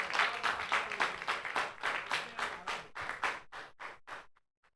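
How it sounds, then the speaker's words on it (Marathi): A crowd at an honouring ceremony during a cricket tournament final applauds in a brisk burst of clapping with a rhythmic, unison feel, thinning to a few last claps before stopping. "एकदा जोरदार टाळ्यांचा गजर."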